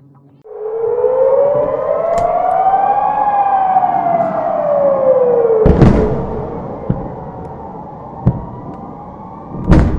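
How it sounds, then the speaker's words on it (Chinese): Civil defense air raid siren in Israel wails continuously, a long rising and falling tone heard loud and steady, with a few sharp bangs or thuds breaking in near the middle and end. "空袭警报一直向北延伸至特拉维夫"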